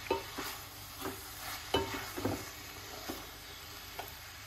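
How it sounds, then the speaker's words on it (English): Cabbage stir-fried with sweet potato in a pan, a soft continuous sizzle punctuated by repeated scraping stirs at irregular intervals, close but fairly quiet, with no voices. "Cabbage, stir-fried cabbage with some sweet potato this evening."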